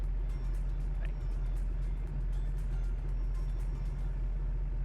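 A truck in BeamNG Drive idles with a steady low engine drone while backing up, holding an even rumble throughout with faint higher ticks above it.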